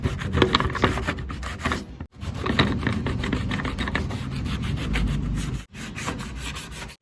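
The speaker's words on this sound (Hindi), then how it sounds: "मशीन ना चला सको ऐसे हाथ से घिस लेना" Hand sanding of enamel putty on a metal surface gives steady, rasping back-and-forth scrubbing strokes, close and fairly loud, with two brief pauses between runs of rapid rubbing.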